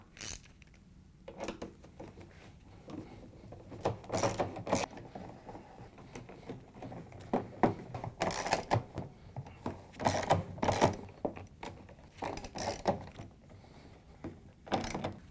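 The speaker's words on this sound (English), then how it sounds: "we're going to go around with our 10mm socket and tighten them all down" A 10mm socket tightens the many tub screws on a Samsung washer tub assembly, giving irregular bursts of ratcheting and clicking mechanism noise, moderately close and fairly quiet, with no talking.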